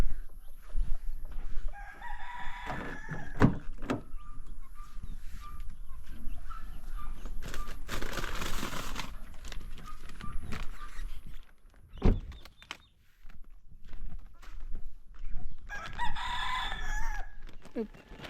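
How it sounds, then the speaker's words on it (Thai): Chickens at a rural home in Thailand, with roosters crowing loudly several times and hens clucking in between, some calls close and others farther off, against quiet outdoor background. "โอ้เป็ดไก่นี่นะ"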